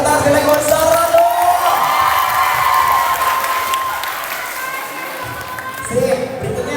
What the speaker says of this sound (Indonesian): luar biasa, tepuk tangan sekali lagi buat Zahra dong.